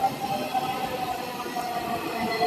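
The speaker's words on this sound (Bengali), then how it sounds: "ট্রেন আমাদের চলে এসছে" A Dhaka metro train arriving at the Diabari station in Uttara: a continuous low rolling rumble with faint wheel squeal and intermittent high metallic tones, steady and moderately close.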